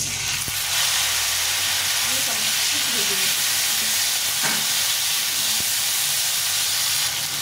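Potatoes and a large tomato fry in oil in a pan, giving a steady broadband sizzle and hiss that runs unbroken through the whole stretch, with faint kitchen clatter and brief low voices underneath.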